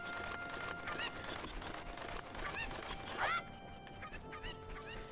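Chickens in the video game Ocarina of Time clucking in short repeated squawks and cackles, fairly faint over a quiet game soundscape, with no talking.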